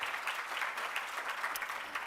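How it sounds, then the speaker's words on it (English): Applause from the audience at a college awards ceremony, a steady patter of many clapping hands at moderate distance, fairly quiet and even for about two seconds with no voices. "Please give her a round of applause for that."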